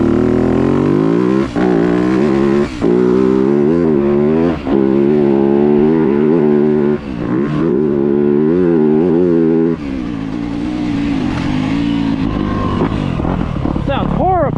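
A 2025 Yamaha YZ250F dirt bike engine screams loud and close, revving hard through repeated rises and brief dips as gears change, then holding a steadier high drone before a final sharp rev.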